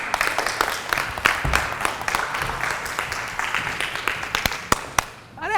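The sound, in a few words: audience applause at a stand-up comedy show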